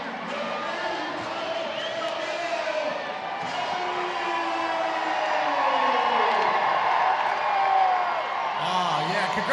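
A large baseball stadium crowd at a Savannah Bananas game against the Party Animals in Fresno, a broad, swelling cheer that grows louder midway, heard beneath talk with steady background roar.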